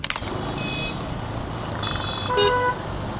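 Busy road traffic around a circle, heard from a KTM 390 Adventure motorcycle: a constant motor rumble with several short horn toots and beeps from nearby vehicles, one louder honk near the end.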